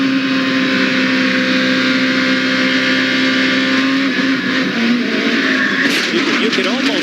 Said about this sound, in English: You could almost hear the engine rev up just as in the back broke loose.